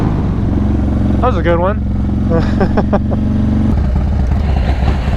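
Motorcycles, among them a Yamaha MT-09 SP, give a loud, steady engine drone that shifts in pitch near the end, heard under excited voices talking close by.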